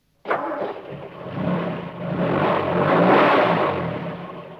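A fire engine's engine starts abruptly, then rumbles and revs as it pulls away. The sound builds steadily louder over several seconds with no talking.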